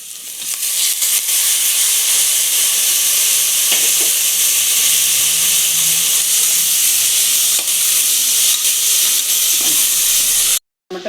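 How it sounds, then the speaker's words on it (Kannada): Tomatoes frying with onion and ginger-garlic paste in a pan give a loud, steady, close sizzle and hiss with a few faint stirring knocks, cutting off abruptly near the end. "ಫ್ರೈ ಮಾಡ್ತಾ ಇದ್ದೀನಿ"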